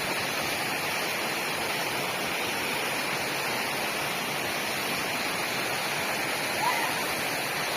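Waterfall in Similipal, Mayurbhanj, Odisha, a steady, dense rush of falling water that roars loud and unbroken throughout, with no voices clearly audible over it.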